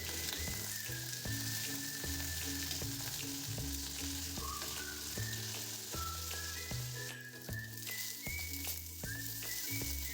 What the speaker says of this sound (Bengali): আলু আর কলাটা তেলে একটু ভেজে নেব।